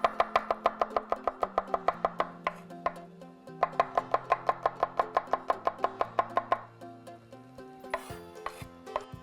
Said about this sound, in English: I'm just gonna slice this garlic up.